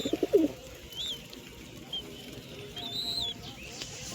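A short cluster of soft, low pigeon coos comes from large birds near the start, followed by quieter background bird calls and faint chirps.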